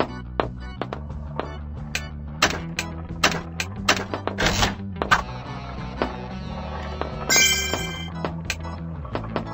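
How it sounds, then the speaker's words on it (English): A marble launched onto a pirate raceway track in the Jake and the Never Land Pirates game, clicking and clattering in quick irregular ticks and knocks as it rolls, with a brief chime near the end. "Click here to launch the marble."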